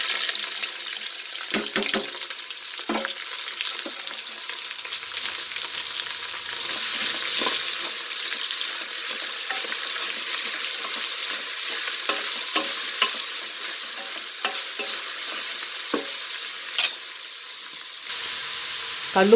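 Large onions fry in a pan for tomato biryani, a steady close sizzle running throughout, broken by repeated scraping knocks of a spoon stirring them.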